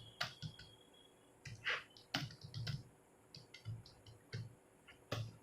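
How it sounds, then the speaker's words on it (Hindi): Typing on a computer keyboard, a quiet close series of irregular key clicks and taps in small bursts with short gaps between them, no voices. "कुछ भी टाइप किया मैंने यहाँ पे टाइप किया फिल इन द ब्लैंक्स"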